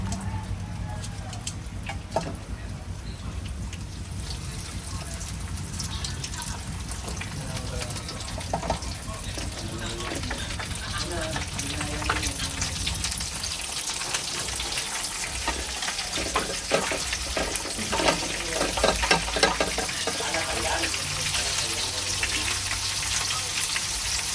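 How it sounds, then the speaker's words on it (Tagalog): Food sizzles and crackles steadily in a hot pan, a dense spattering hiss that continues throughout at moderate volume, close by. "Paprito natin lahat yun"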